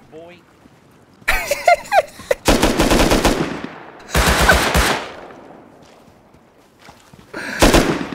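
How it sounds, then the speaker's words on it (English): Rapid bursts of automatic gunfire in the survival game Rust, several loud volleys separated by short pauses, with a voice talking between them. "He's shooting my dead body."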